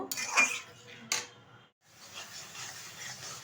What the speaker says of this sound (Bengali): এবার অনবরত নেড়ে আমি পাক দিয়ে নেব